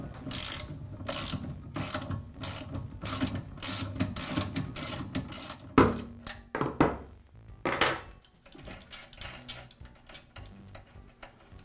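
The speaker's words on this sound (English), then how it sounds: "Now remove the bolt and nut that secures the arm to the side of the edger." A bolt and nut being removed from the arm of a Southland lawn edger with a ratchet wrench, a close, quiet run of rapid clicking ratchet strokes with metallic taps and clinks in the middle.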